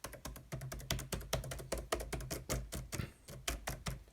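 Typing on the non-mechanical keyboard of an Acer Aspire 8930G laptop: quick, uneven clatter of hollow key taps, close and fairly quiet, with no voice.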